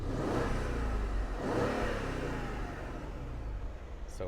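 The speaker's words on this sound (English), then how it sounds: "I want to give it a couple of revs. It's got a nice rumble to the exhaust." A 2014 Mercedes E550 convertible with a V8 over 400 horsepower revs up twice close by, its exhaust rumbling deeply between the surges before settling toward idle.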